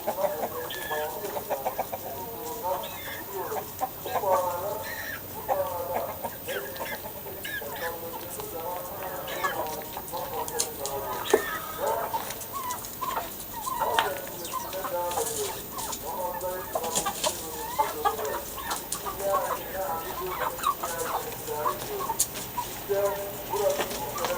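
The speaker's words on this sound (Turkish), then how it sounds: "sizi korkutacağım tavuklar" A flock of chickens in a Malatya Yazıhan village clucks continuously and close by for the whole stretch, with occasional human voices mixed among the calls.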